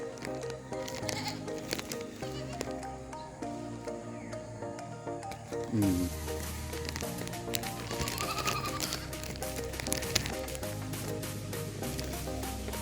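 A goat bleats amid steady background music outdoors among chili plants, its wavering call rising briefly over a continuous musical bed.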